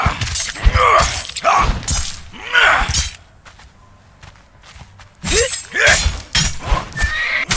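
A horse in the Conan Exiles video game neighs and whinnies repeatedly while under attack, loud close bursts with hoof clatter, a brief quieter lull in the middle, then more frantic whinnying.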